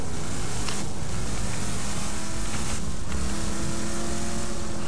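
A vehicle driving in the video game Borderlands 2, a loud, dense engine roar with rumbling low end and rushing noise, continuous and close, with two brief dips in the high hiss.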